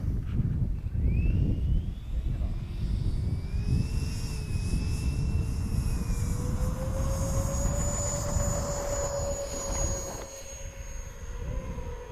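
An Xfly J65 Gulfstream RC model jet takes off from a runway, its turbine whine rising steadily in pitch and loudness over a constant roar, heard nearby with no talking.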